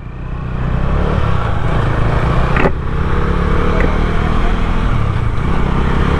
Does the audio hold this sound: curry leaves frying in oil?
no